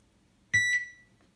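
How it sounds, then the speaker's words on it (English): One short electronic beep, clear and fairly quiet, rings as the alarm 2 tone of a Zaxxon arcade game sound board during an audio test, then fades into near silence. "just a single beep."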